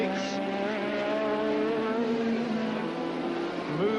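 Formula 1 race cars scream down the back straight, engine notes sliding in pitch as one brakes late into a corner, steady and fairly loud with a faint downshift near the end.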